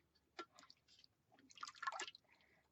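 Water poured for hand papermaking falls in faint, uneven splashes and drips, a short burst followed by a louder, longer pour, close by with no talk.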